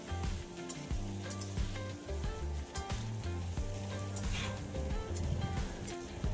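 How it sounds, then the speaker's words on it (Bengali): Chopped onions fry in oil with cardamom and cloves in a kadai, a steady close sizzle broken by scraping stirs and light clatter. "পেঁয়াজটাকেও ভালো করে ভেজে নেব।"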